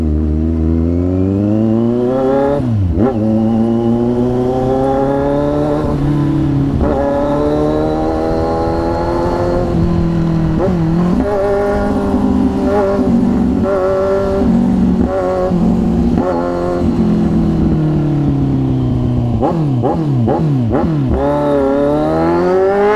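A Kawasaki Z1000 motorcycle with an SC-Project 61mm exhaust revs loudly and repeatedly, its exhaust rising and dropping in pitch in aggressive bursts, close and continuous throughout.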